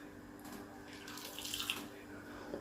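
Concentrated lemon juice poured into a glass for a mojito, a short steady liquid stream, close but soft, lasting about two seconds with no talk.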